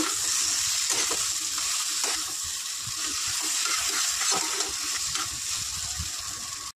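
Kofta curry with salt and green chilli sizzles continuously in a pan, a loud close hiss with occasional soft stirring knocks.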